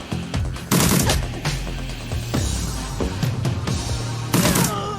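Power bolt spell blasts in Shadowrun Returns, a series of sharp explosive bursts over steady game background noise, loud and close, with two heavier hits near the start and the end.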